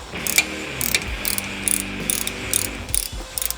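Ratchet wrench tightening the differential plug on a 2020 Ford Tremor, a series of sharp, close clicking bursts repeating at a steady rhythm, about eight quick strokes with no talking.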